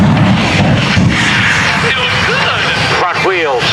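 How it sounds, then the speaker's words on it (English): The Smoke and Thunder 10,000 hp jet car fires flames out the back at an airshow, making a loud continuous roar with booming blasts, while a voice briefly speaks near the end. "Sonic booms as the fire jumps 75 feet out of the back of the Smoke and Thunder jet car."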